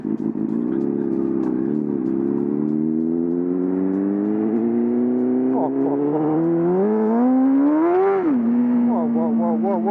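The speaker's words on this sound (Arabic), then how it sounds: "الدقه ديال الموتور تبدلات اصاحبي." A newly fitted motorcycle engine in Rabat runs close by, its revs climbing steadily over several seconds to a sharp peak, then dropping back to a steady idle.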